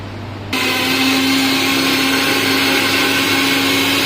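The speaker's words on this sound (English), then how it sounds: "Now we have to grind our tomato to make tomato puri." An electric kitchen blender switches on after a brief quiet moment and whirs loudly and steadily while grinding tomatoes into puree for a ginger chicken gravy.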